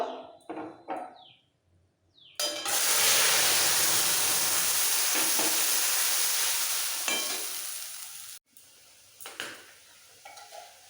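Boiled chana dal tipped into hot oil with asafoetida in a pan, bursting into a loud, continuous sizzle that holds for several seconds and slowly fades, with brief clatters before and after.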